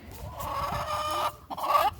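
Hens cluck steadily inside a built wooden hen house with rubber roofing and hinged egg boxes, a close, busy chatter of overlapping calls with a brief lull before resuming.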